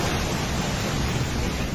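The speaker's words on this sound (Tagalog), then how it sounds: "Pabugso-bugsong hangin din ang sumabay sa malakas na ulan sa La Union." Gusty wind and heavy rain lash down during typhoon Pepito in La Union, a steady dense roar of rain and wind holding at high loudness throughout with no letup and no voices.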